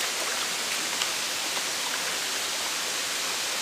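Steady broadband rush of a hidden waterfall in West Sumatra, a constant even roar with faint splashy detail, heard alone without voices.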